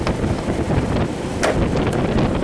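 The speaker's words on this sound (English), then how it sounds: "sorry about the fan" Steady roaring wind-like buffeting from a fan blowing across the microphone, continuous and close, with no voices.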